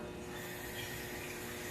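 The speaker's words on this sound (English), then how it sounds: "We'll put 200 milliliters of tap water in this bottle" Tap water poured into a bottle, a soft continuous splashing hiss at low level, steady throughout the short stretch with no voices.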